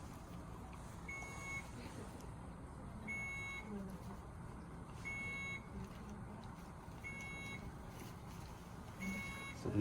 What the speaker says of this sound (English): the alarm is going off because I didn't connect it first